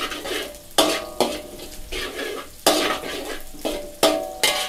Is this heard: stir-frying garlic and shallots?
yes